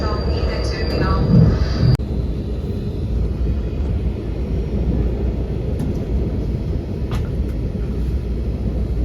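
VIA standard-class passenger train arriving into Ottawa: a steady, loud rolling rumble of wheels on rail fills the cabin throughout, with a brief louder burst and thump near the start and faint high squeals above.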